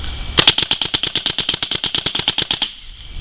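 A gun fired rapidly by walking the trigger, a quick string of about twenty sharp, evenly spaced clicking shots that start abruptly, run for a little over two seconds and stop, leaving quiet.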